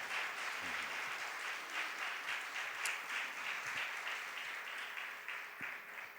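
A congregation clapping steadily at a New Year 2025 Mass in St. Mary's church, Gulberg II, Lahore, a sustained even applause from many hands that fills the room.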